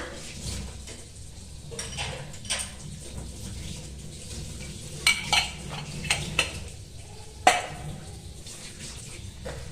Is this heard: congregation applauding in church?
no